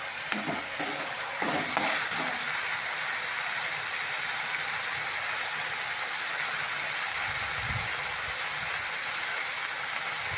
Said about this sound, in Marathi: छान तेल सुटेपर्यंत आपल्याला लसूण परतून घ्यायचं